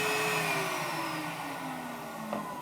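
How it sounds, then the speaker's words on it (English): Nitty Gritty 1.0 record cleaning machine vacuuming fluid off a vinyl record, a steady close-up whining suction drone with a slowly falling pitch and no speech. "Just kind of rotate it slowly so that it's vacuuming up all the fluid off the bottom of the record."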